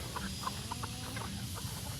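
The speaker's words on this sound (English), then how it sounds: "And then we got the other chicks in here." Chickens cluck softly inside a hen house coop: a scattering of faint, short clucks over a steady low background hum, with no talking.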